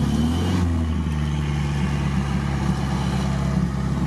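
An off-road car stuck in the mud, its engine held at a strained, steady roar with wavering pitch, loud and close throughout, with no talk.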